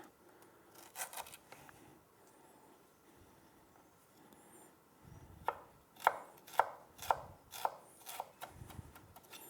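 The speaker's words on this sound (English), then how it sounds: "Take the galangal. Here we'll only need half of it." A knife chops galangal on a board: a couple of early strikes, then a quick run of about seven crisp, close, evenly spaced chops; no speech.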